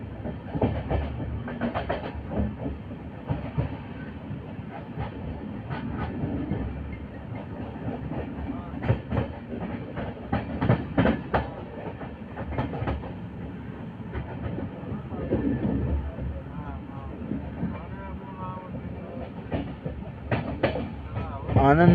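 Interior of the Prayagraj Express rolling along the rails, a continuous rumble with repeated clickety-clack wheel beats passing over joints; a voice talks intermittently over the running noise.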